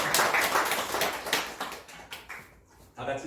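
A church congregation applauds at the close of a Sunday service, steady broadband clapping from many hands that thins out toward the end before a brief renewed burst.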